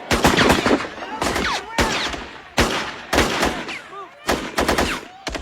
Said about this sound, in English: Alina, you've seen the shooting. It is still going on.